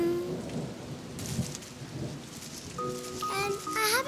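Rain pours over a summer meadow while thunder rumbles low and heavy, with tonal musical notes rising toward the end.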